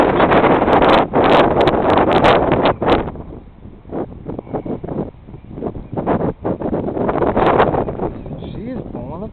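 Wind buffeting a microphone outdoors beside a top bar beehive, loud rumbling gusts nearly continuous throughout, with a voice talking intermittently underneath.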